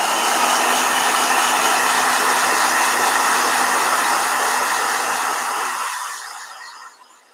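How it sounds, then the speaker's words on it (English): A blow dryer runs at full power drying a watercolor painting, a loud, steady broadband whoosh held for several seconds before it winds down and cuts off. "Blow dryer!"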